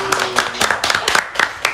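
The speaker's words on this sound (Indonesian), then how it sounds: "Ya, tepuk tangan buat Eni." Several people clapping in a small studio during a student podcast recording, a short run of close, uneven hand claps with a brief tone at the start.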